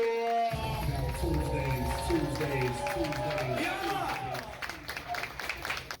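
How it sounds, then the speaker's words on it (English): A live poetry-event audience cheers and claps for performers on a tour stop, a dense wash of applause and whoops throughout, with a voice speaking over it near the start and the clapping thinning toward the end. "Y'all make some noise, start clapping right now."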